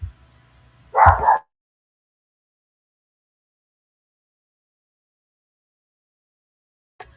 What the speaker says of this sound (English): I had to stop my dog from barking.